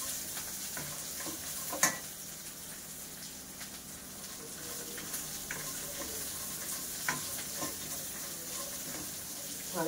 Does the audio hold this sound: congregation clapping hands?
no